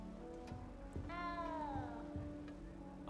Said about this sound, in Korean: 아, 위에 고양이 있구나.